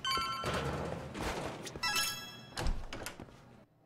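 In the video game Lost Judgment, a phone rings with a short, bright electronic trill, followed by a few thuds, with no talking.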